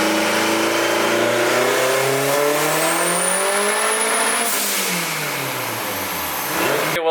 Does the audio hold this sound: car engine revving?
yes